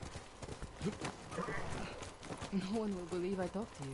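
Horse hooves clip-clop steadily in the Ghost of Tsushima video game while the rider travels on horseback, the rhythmic thuds mixed under a voice speaking throughout.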